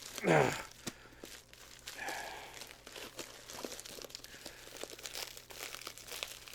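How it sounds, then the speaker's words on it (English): A bubble envelope is torn open by hand, with a sharp rip and crinkle at the start followed by softer rustling and crumpling of the padded plastic, fairly quiet and close. "It's only a bubble envelope anyway, right? So, yeah, only a bubble envelope. Really easy to open."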